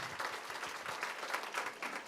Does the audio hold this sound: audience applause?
yes